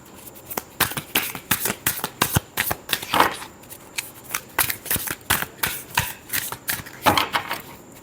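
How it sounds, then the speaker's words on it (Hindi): Tarot cards are shuffled in a rapid series of crisp riffling bursts and taps, close and fairly loud, repeating steadily without any talking. "last shuffle"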